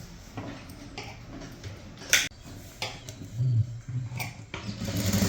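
A sewing machine stitches a fall onto a saree edge, giving off irregular mechanical whirring and ticking bursts that build into a steadier, louder run of stitching at the end, with no voices.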